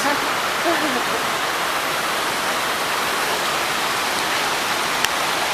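Loud, constant rushing of water close at hand, a dense unbroken roar, with a faint voice briefly underneath near the start.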